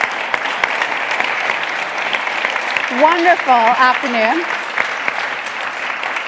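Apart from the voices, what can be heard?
audience applause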